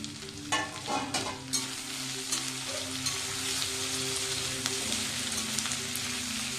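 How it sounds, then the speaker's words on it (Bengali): Potatoes and green chilli fry in a pan with a steady, close sizzle and crackle, broken by a few brief scraping stirs early on; no voices. "আলুটা একটু ভেজে নেবো 2 মিনিট"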